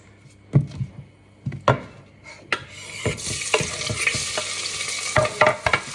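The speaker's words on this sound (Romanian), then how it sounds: "după ce las ceapa un pic la prăjit" Onion frying in oil sizzles steadily in a pan with a soft, continuous crackle, broken by several sharp clacks of a utensil stirring and knocking against the pan.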